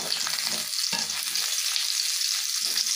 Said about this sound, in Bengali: আলু বেগুন আমি হাই হিটে 1 থেকে 2 মিনিটের মতো ভেজে নেব।